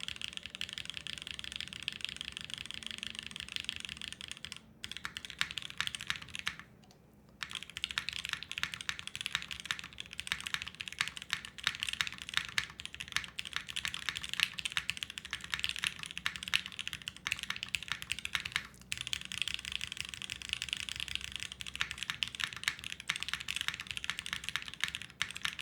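Continuous typing on a Tetra prototype mechanical keyboard fitted with tadpoles, a dense, steady clatter of keystrokes with a couple of brief pauses and no voices.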